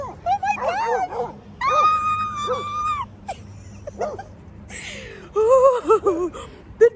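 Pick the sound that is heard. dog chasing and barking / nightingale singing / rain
dog chasing and barking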